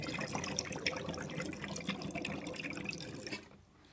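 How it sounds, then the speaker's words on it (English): Gasoline bubbling inside a homemade gas vapor engine container as air is drawn through it, a dense, steady fizzing and gurgling that stays close and continuous, then drops away abruptly near the end. "it's going to make this bubble like this"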